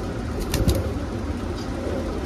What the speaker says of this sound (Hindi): बेहतरीन क्वालिटी का पंजाबी कबूतर